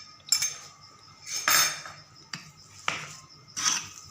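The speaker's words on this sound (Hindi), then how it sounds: "इसको आप चम्मच से मिक्स कर लें।" A metal spoon scrapes and clinks against a bowl while mixing chicken seekh kebab mixture with cheese, a few distinct sharp knocks spaced irregularly over a quiet kitchen background.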